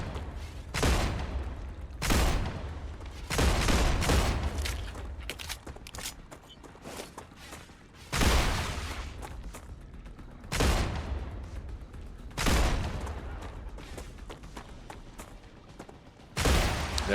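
Enemy sniper gunfire in the video game Star Rupture: several loud, sharp shots ring out at irregular intervals, each followed by a brief decay, over quieter background rumble and movement sounds.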